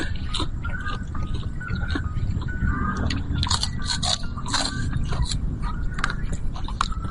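Close, loud crunching and biting of crispy pork chicharon, with repeated sharp crackling bites and chewing over a steady low background rumble, eaten outdoors at a cemetery mukbang.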